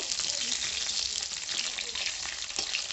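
Tilapia fish frying in hot oil in a home kitchen, a steady close crackling sizzle that holds evenly throughout with small pops and no talking.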